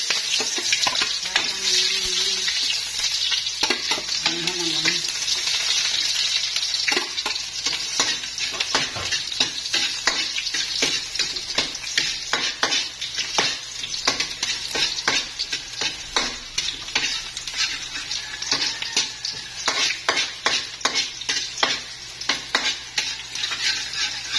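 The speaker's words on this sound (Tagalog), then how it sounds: "Yan, nasangkot na natin ang sibuyas at bawang." Onion and garlic sautéing in a hot pan, with a dense continuous sizzle and a busy run of quick scraping and clinking stirring strokes close up, no talking.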